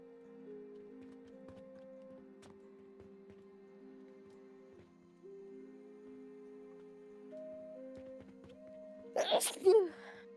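A single sharp sneeze bursts out near the end, close and loud, following a quiet stretch of game music and light clicks during an Alchemy Factory play session.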